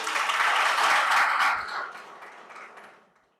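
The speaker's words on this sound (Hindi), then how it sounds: "मैम की एक बार जोरदार तालियां बजा दीजिए मैम के लिए" College students at a Teacher's Day celebration give a teacher a loud round of applause, dense clapping that holds strongly for over a second and then thins out and fades away to near silence.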